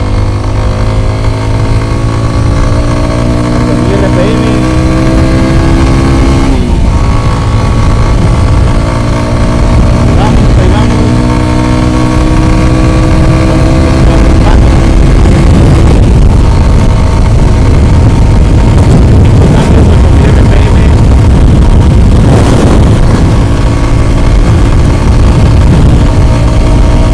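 A Victory Venom 18 motorcycle engine revs loud and close, holding a steady high drone with rising and falling pitch as it climbs toward 8,000 RPM while riding, with wind rush and occasional voices underneath.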